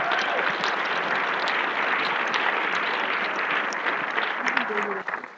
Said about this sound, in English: So I want you guys to give yourself a round of applause,